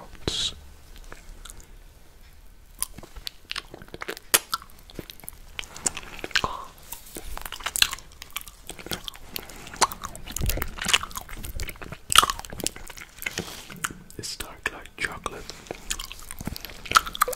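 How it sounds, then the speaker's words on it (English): Dark chocolate is licked, sucked and chewed close to the microphone in a quiet setting, with wet mouth clicks, smacks and crunchy bites in an irregular rhythm, plus faint whisper-like breaths. "Licking, sucking, chewing on this chocolate."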